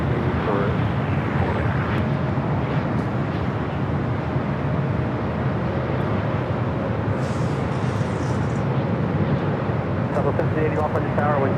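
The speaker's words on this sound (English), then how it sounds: "So you don't really see China Southern here too often, especially their A350s" A China Southern Airbus A350 airliner at LAX gives off a steady, loud, broadband jet roar that holds for the whole stretch, with a voice talking over it.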